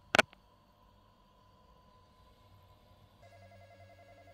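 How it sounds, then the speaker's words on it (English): A telephone rings in the Roblox horror game Midnight Hours: a sharp bell burst at the start, then a softer electronic ringing tone that continues and shifts pitch, faint and alone. "can we pick up the damn phone?"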